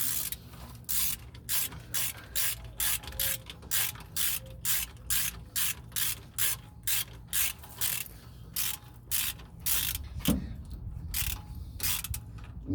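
A hand ratchet snugs up bolts on a vehicle differential cover in a garage, clicking in a long steady run of close, evenly spaced bursts that pause briefly, with a louder knock near the end.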